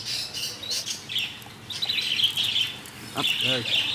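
Birds in a pet shop chirp and tweet in quick, high bursts, several calls overlapping at moderate distance, with a murmur of voices faintly underneath.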